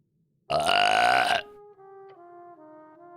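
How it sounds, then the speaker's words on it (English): A pet creature in the fantasy RPG Esoteric Ebb lets out a single loud, drawn-out belch of about a second, after which soft tonal game music carries on alone. "His pet makes a loud belching noise"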